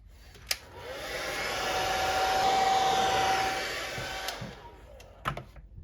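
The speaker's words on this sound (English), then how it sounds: "I'm gonna hit that once with the hair dryer" A hair dryer whirs with a steady whine, swelling up and fading back down over a few seconds while drying paint on a fishing lure, framed by a few sharp clicks.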